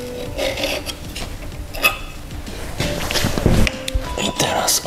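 A scribe scratches two marks on a part during a 3D printer conversion from Bowden to direct drive, giving short rasping strokes close by, with a voice nearby.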